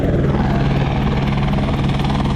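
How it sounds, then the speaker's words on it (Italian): A military helicopter taking off, its steady loud rotor chop and engine whine filling the air close by without pause. "elicottero militare che riparte e ripartiamo anche noi, via"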